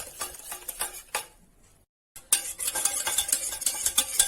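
A utensil stirs flour, sugar and water into a batter for coating sweet banana slices, making quick scraping, clicking strokes close by. The strokes break off into a brief silence, then resume briskly.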